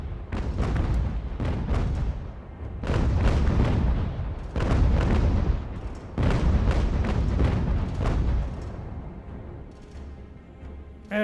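Heavy naval cannon broadsides boom repeatedly in a sailing-ship sea battle from the game UGAR, each deep blast rolling out with long rumbling tails across a sustained barrage.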